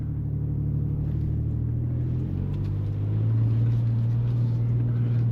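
Steady low engine rumble from a Ford Ranger Raptor crawling an off-road trail in 4 low, third gear at about 2,500 RPM, droning continuously and swelling slightly louder partway through.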